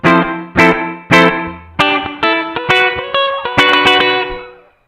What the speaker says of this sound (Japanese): 残響が短く途切れるですね